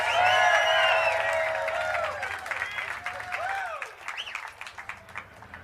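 Applause and cheering from an outdoor crowd at John Carpenter's Hollywood Walk of Fame ceremony, loud at first with whoops and shouts over it, then thinning into scattered claps and voices.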